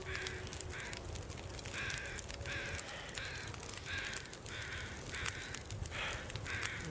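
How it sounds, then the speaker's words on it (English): Crows caw repeatedly in a steady rhythm, about a dozen harsh calls overhead over a constant low outdoor rumble, in the game The Long Dark. "There's gotta be some feathers around here. I hear the crows."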